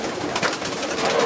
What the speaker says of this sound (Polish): tutaj pokaźne stadko młodych pocztowych, które za 3 tygodnie rozpoczną karierę na niebie